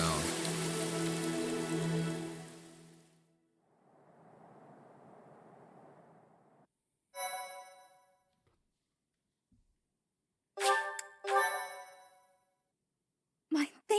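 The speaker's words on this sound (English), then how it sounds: "Then the rain starts to pour on down." Rain pouring in the video game Fire Emblem: Three Houses, a soft steady patter lasting a few seconds between louder game music and sound effects, with no speech.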